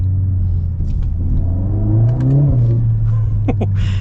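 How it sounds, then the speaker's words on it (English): A 2023 Mercedes-AMG GLA 45 pulls on partial throttle, a loud, close cabin engine drone that rises steadily in pitch, then dips into a downshift with a few short clicks near the end. "Yeah, that's just partial throttle and this thing moves. So we'll downshift one."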